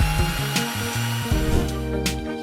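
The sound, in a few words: drilling out a rivet with drill bit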